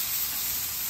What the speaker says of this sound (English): That's a hot griddle. That's looking good right there. We'll be able to sear the fat cap on it and everything.